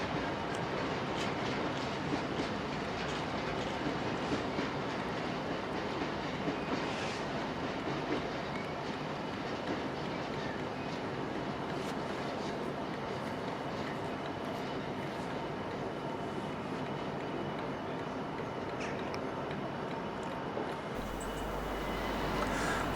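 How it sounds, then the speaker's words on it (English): A cement freight train rolls into the yard at Carlisle, a steady rumbling roar of wagons with faint clicking wheels, continuous and moderately distant throughout. "The cement train is heading into the yard"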